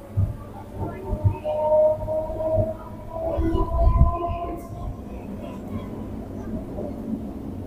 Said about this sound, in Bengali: স্টেশন তালপুর ছেড়ে এখন আমাদের ট্রেন এগিয়ে চলেছে।